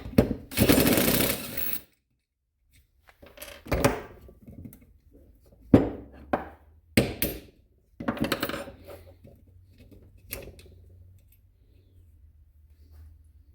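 Bolts being removed from a worn starter solenoid, heard as a string of sharp metallic clinks, ratchet clicks and tool knocks in separate bursts, near and fairly loud with quiet gaps between them.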